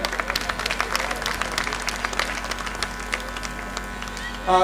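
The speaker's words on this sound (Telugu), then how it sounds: "మీరు రెడీ అయితే ఒక క్లాప్ చూడండి." An audience at a school annual day claps in a dense, continuous round of applause heard from within the crowd, with a louder burst near the end.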